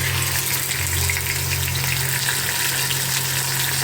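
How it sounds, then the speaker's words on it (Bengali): Loud, steady hissing and crackling of fish heads frying in hot oil in a wok, continuous and close, with a low hum underneath. "কড়াইতে আমি একে একে করে মাছের মাথাগুলো দিয়ে দেবো।"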